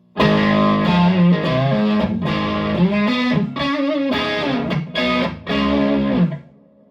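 An electric guitar played through a Luna 15W prototype tube amp with an EF86 preamp tube rings out in a series of distorted, sustained chords and notes, loud and close, ending in a quick fade.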